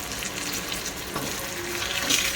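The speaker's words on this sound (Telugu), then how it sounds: "ఇవన్నీ కొంచెం డార్క్ కలర్ వచ్చే వరకు ఫ్రై చేసుకోవాలి" Garlic, ginger, onion, curry leaves and dried red chillies fry in oil for sambar, giving a steady close-up sizzle with light crackling and a small flare of spitting near the end; no one speaks.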